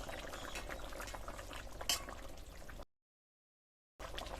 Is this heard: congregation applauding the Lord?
no